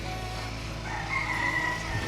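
A rooster crows faintly in the background over a steady hum and low-frequency noise, with a thin drawn-out call rising near the middle and holding for about a second.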